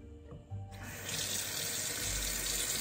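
A cold-water tap is opened and runs steadily into a sink, a sudden rush of close, loud splashing that keeps going to the end.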